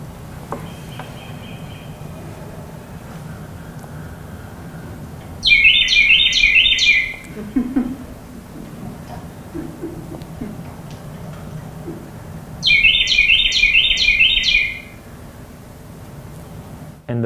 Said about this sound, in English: And the birds will do a lot of call and responses to each other too.